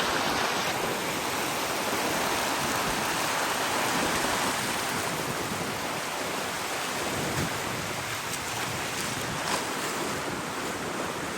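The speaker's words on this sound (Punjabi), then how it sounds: "ਪਾਣੀ ਬਹੁਤ ਤੇਜ਼ ਆ ਮਿੱਤਰੋ" A constant, heavy roar of fast-flowing floodwater in Ajnala, Punjab, loud and unbroken, with wind buffeting the microphone throughout.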